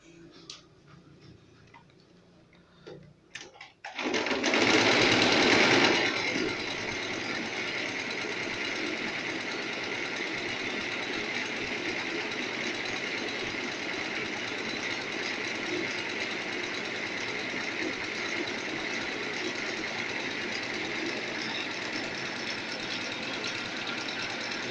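A sewing machine stitches the leg panels of a hazmat suit, a steady loud mechanical chatter that starts abruptly after a few seconds of quieter handling and runs on continuously to the end.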